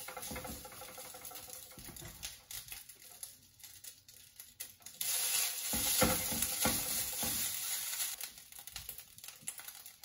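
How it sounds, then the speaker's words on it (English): Pressure-cooked rice for red curry fried rice stirred and tossed in a heated pan, with repeated scraping and patter, faint sizzling and louder stirring strokes in the second half. "Now I have taken another pan and heated the pan. Add pressure cooked rice."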